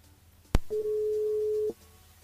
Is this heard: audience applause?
no